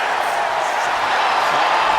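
Arena crowd in the WWE 2K26 wrestling game during a Shawn Michaels match: a steady, moderately loud wash of cheering and crowd noise that holds evenly throughout, with no distinct peaks.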